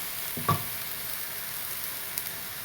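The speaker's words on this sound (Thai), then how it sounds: "ผัดจนผักสลดนะคะ" Minced pork, onion and bell pepper stir-fried with seasoning in a pan for pad kra pao, heard as a steady, fairly quiet sizzle with a couple of brief utensil knocks, close by and without speech.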